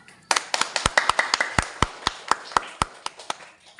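Sharp hand claps ring out in a brisk, slightly uneven run, like a small classroom group applauding briefly after a student presentation, with no speech.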